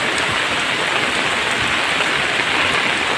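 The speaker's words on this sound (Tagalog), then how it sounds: "Sobrang lakas ng ulan" A steady typhoon downpour hisses and patters loudly on nearby surfaces, thick and unbroken throughout, with flooding nearby.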